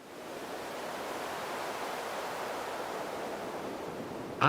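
A synthesizer sound-effect patch named Time Wind, giving a steady, breathy wash of airy noise like wind or surf that holds evenly for several seconds before a brief sharp sound at the end.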